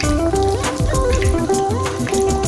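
Bhatura dough frying in hot oil, close and loud, with dense crackling and popping bubbles and shifting tonal sizzle that continues steadily throughout, with no talking.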